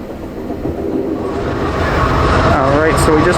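The Amtrak Lake Shore Limited train pulls into Albany station in New York with a loud, steady rumble and rail clatter that swells gradually, ending with thin metallic squeals.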